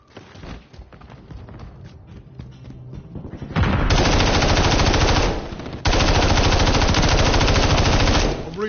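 Heavy automatic gunfire in a Call of Duty match, sustained rapid bursts that swell loud and dense, briefly dip, then resume at full intensity, with softer scattered shots and combat noise before the main volleys.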